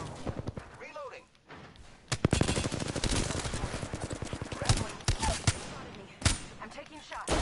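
Rapid bursts of gunfire from a first-person shooter video game crackle through most of the stretch, loud and dense after a short lull, with a voice talking over it.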